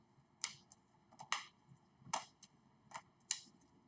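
Oracle cards being shuffled by hand, giving five crisp riffling snaps spaced roughly evenly over a few seconds, close and fairly quiet with no talking.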